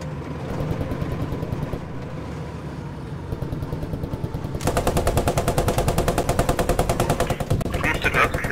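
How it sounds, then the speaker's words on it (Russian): Sustained automatic gunfire in the WWII shooter Post Scriptum, with loud rapid bursts that turn into a denser, heavier stream of rounds midway, alongside engine rumble. "Кому стреляют?"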